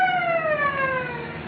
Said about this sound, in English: That, ma'am, is a police siren.